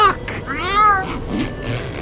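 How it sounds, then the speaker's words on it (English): A cat meows insistently, one drawn-out rising and falling meow up close, flanked by fainter mews, with a bit of background noise. "fucking cat would not stop meowing"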